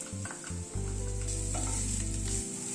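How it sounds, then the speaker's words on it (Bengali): Chopped onion frying with bitter gourd and potato in a pan, a close, steady sizzle that swells loudly after a couple of brief clattering bursts, with a low mechanical hum underneath and no talk. "এবার পেঁয়াজটাও একটু উচ্ছে আলুর সাথে ভেজে নেব।"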